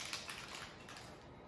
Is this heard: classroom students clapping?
no